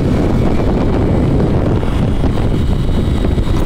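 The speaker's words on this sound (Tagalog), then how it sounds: "Sarap ng hangin." Steady, roaring wind buffeting the microphone, a constant low rumble with no pauses, loud and close throughout.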